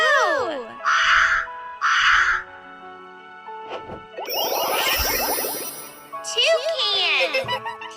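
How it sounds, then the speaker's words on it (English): A crow gives two harsh, evenly spaced caws near the start, followed by children's excited voices and a chiming tone. "Crow!"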